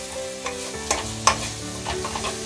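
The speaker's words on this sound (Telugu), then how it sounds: "ఒకసారి లిడ్ ఓపెన్ చేసి చూద్దామండి ఒకసారి బాగా కలుపుదాం" Wheat flour snack mixture stirred in a hot pan, sizzling steadily under repeated scraping and knocking strokes of a spoon, close and fairly loud, with no voices.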